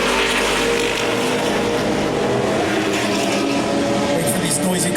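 Ligier JFC race cars roar past on the track at NJMP, a steady loud engine drone filling the whole stretch with no break, sounding close and continuous.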